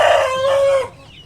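A well-fed breeder hen on a poultry farm gives one loud, close, drawn-out call that sounds more like a crow than a cluck, then stops abruptly.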